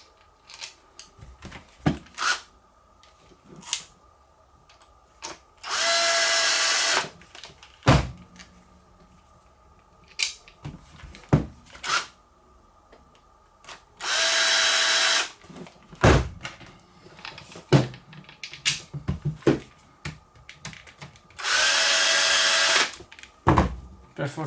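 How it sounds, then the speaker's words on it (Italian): Power screwdriver driving screws during an angle grinder repair, three loud buzzing whirs of about two seconds each, spaced apart and close up, between clattering clicks and knocks of parts being handled. "Per fortuna c'è l'avvitatore"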